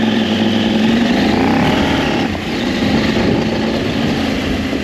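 A KTM 890 Adventure R motorcycle engine drones steadily and loudly on rocky roads, with wind noise and a slight dip in throttle partway through.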